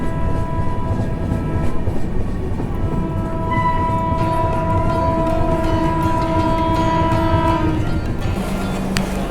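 The Vaishali Superfast Express, running from New Delhi to Saharsa, gives a loud continuous rail rumble, with sustained horn tones sounding through the middle stretch.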